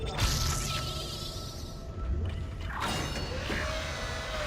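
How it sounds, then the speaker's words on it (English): A power node door in a video game grinds and creaks open, mechanical whirs and gear-like clanks with whooshing sweeps running for several seconds, loud and close, without speech. "And here's a power node door."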